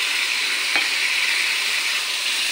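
Ridge gourd and poppy seed paste sizzles loudly and steadily in a pan as it is stirred, a dense, unbroken frying hiss close to the ear with a faint scrape early on.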